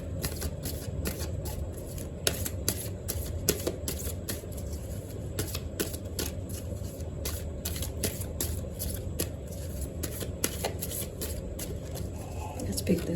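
Tarot cards being shuffled before more are drawn, a steady run of papery riffles and snaps for the whole stretch, fairly close, over a low background hum with some talk.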